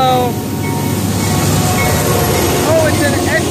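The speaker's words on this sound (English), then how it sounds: "Two SD40-3s on this train." A CSX freight train hauled by two SD40-3 diesel locomotives passes close by, giving a loud, steady engine roar and rolling rumble that fills the whole stretch without letting up.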